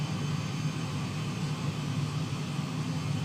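Steady airplane engine drone inside a flight simulator cockpit on a route from CYYJ to KSEA, a continuous broadband roar with a low hum, unchanging and fairly loud.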